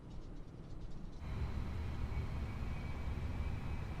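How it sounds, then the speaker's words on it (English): Auxiliary power unit of a Fenix A319 airliner running in a flight simulator, a steady low mechanical rumble and whine that steps up after a second and holds constant, heard from inside the aircraft without speech. "Is that the sound of the APU that started to run?"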